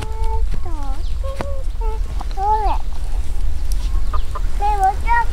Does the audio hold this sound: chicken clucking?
yes